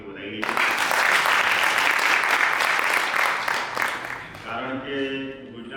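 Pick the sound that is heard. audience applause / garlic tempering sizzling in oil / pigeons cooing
audience applause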